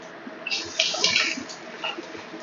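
Boiled banana stem being wrung out by hand, its cooking water squeezed out and splashing down in uneven bursts, fairly close, with no talking.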